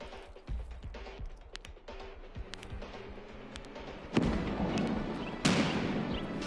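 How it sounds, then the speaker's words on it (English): Fully automatic weapon gunfire in the Escape From Tarkov video game: scattered distant shot cracks, then two louder, closer bursts of sharp rapid fire, with no talking. "Shooting at me with a fully automatic weapon."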